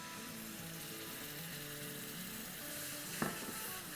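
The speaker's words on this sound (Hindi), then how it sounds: "दही को हिला लेंगे।" Yogurt is stirred into roasted gram flour in a hot pan, giving a steady close sizzle with soft scraping stir sounds and one brief knock near the end, with no talking.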